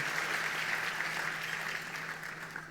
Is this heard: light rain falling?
no